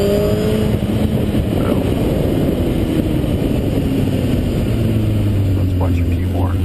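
A sport motorcycle engine revs hard as the rider pops a wheelie, a loud continuous roar with rising pitch sweeps throughout, while wind or background rumble stays steady underneath.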